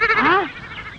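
A goat gives a single loud, close bleat with a wavering, rising-then-falling cry that breaks off after about half a second, leaving faint background noise.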